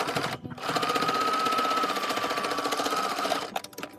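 A sewing machine stitches a three-layer pleated fabric face mask near the edge in one steady, loud run of rapid needle strokes, stopping briefly at the end.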